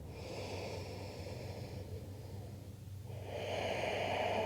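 Deep, soothing yoga breath drawn slowly through the nose, a soft airy inhale that pauses briefly before a fuller, slightly louder exhale, close and quiet with no talking.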